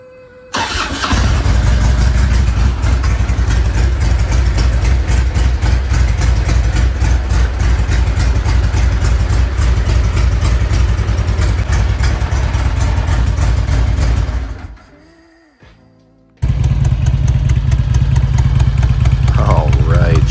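A Harley-Davidson Electra Glide Ultra Classic motorcycle engine cranks and fires up loud and close, settling into a steady rumbling idle, cuts out briefly near the end, then restarts and idles again.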